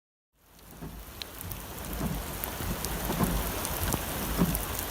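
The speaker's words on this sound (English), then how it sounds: "All plants, including the crops that feed us, need rain to grow and thrive." Steady rain falls and builds from silence into a dense, constant hiss with scattered louder drops, heard alone with no voices.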